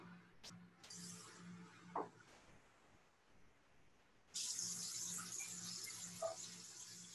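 A kitchen sink tap runs water to fill a pot for cooking rice, a steady broadband hiss that starts abruptly partway through and continues loudly over a faint background hum.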